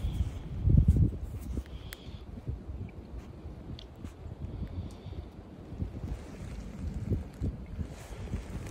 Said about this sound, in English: I got too much wind.